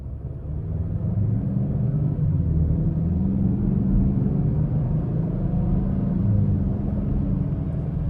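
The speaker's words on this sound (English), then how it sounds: "the normal mode, it wants to rev a little higher than in the eco mode, doesn't want to shift as much." Cabin drone of a 2026 Ford Explorer Active 4WD with the 2.3 turbo engine under way in normal mode, a steady low rumble holding even and fairly loud for the whole stretch, with no voices.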